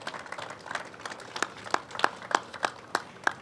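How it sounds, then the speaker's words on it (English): Scattered handclaps from a small audience at a speech by Governor Andrew Cuomo: about a dozen sharp, separate claps, faint at first and growing more distinct, with no sustained ovation. "let's give themselves a round of applause and thank them for it"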